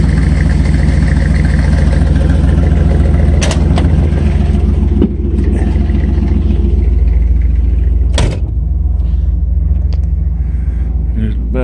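A 1970s custom Chevy van runs with a deep, steady engine rumble close by, punctuated by a couple of sharp door or handling knocks, while someone talks over it.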